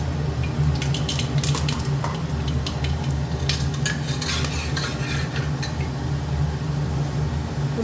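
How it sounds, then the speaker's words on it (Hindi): Whole garam masala spices frying in hot oil for chicken, a continuous low sizzle with scattered crisp crackles and spoon scrapes against the pan, no talking. "यहाँ पे ऑयल गर्म हो रहा है अच्छे से। तो अभी थोड़ा सा गर्म मसाले डाल रही हूँ।"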